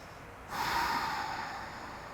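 A single deep breath taken during a heart-opening yoga pose, heard as one soft, airy exhale that swells and slowly fades over about a second and a half in a quiet room.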